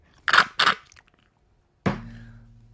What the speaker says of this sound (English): slurping loudly into the microphone